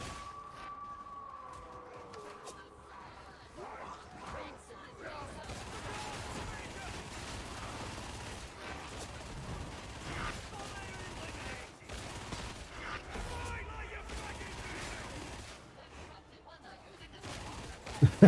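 Video game combat with a gunner-class character, steady bursts of gunfire and scattered shots layered into a continuous battle din, moderately loud throughout with a few sharp cracks near the end and occasional voices mixed in.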